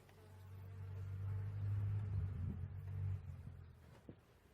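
Honeybees from a hive showing many drones and somewhat aggressive behavior buzz around an opened frame, a close, droning hum that swells in the middle and eases off, with a few soft knocks and clicks.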